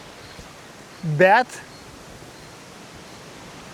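Strong wind of about 16 metres per second roars steadily across a lake, its broad hiss mixed with the wash of waves, with someone saying one brief word midway.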